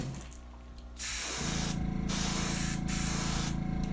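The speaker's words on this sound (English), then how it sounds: "The black paint and the airbrush." An airbrush sprays black paint onto a crankbait fishing lure, a soft airy hiss that begins after a brief quieter moment and then continues steadily and close, with faint rhythmic pulsing and no voices.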